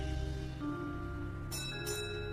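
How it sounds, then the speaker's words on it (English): A quiet two-tone doorbell chime rings twice in quick succession over soft background noise. "Oh, yes, there's the doorbell."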